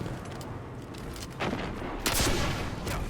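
Rocket launcher fired in Destiny 2 during a Master Nightfall strike in the Inverted Spire, with sharp explosive blasts and bursts of gunfire over loud ongoing combat noise.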